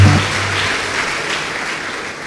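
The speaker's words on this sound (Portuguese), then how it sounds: "Uma salva de palmas para Jesus, amados." A congregation claps during a Portuguese-language church service: a brief burst of full, close applause from many people, with a low hum at the very start.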